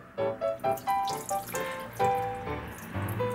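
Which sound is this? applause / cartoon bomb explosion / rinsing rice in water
rinsing rice in water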